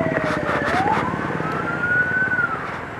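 An ambulance siren wails close by in street traffic. The tone rises and falls in a quick sweep, then stretches into one long rising and falling wail over the road noise. No one speaks.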